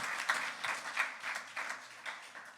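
Crowd applause at a National Action Network gathering, a dense burst of many hands clapping in quick irregular pulses, fairly close and steady for a few seconds.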